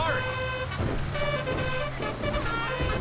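A telolet bus horn in GTA 5 plays a string of bright, musical toots in several bursts, loud and close, mixed with game engine sound and talk.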